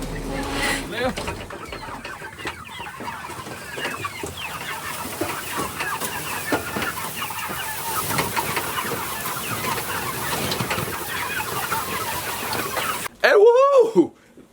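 A flock of chickens in a covered pen clucks and squawks continuously, close and busy, with overlapping calls, a person speaking among them and a louder burst of sound right at the end.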